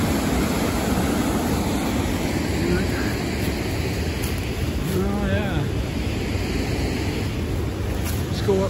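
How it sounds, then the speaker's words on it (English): Water at Elliot Falls pours down a chute in a steady, loud, broadband roar with no pause, mixed with rushing wind noise. "you can see down there on the other side of that chute, there's more water pouring out"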